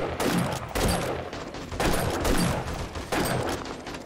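Gunfire in the video game 7 Days to Die during a horde night, loud heavy shots fired in close succession, with a few separate bursts and reverberant booms and no talk over them.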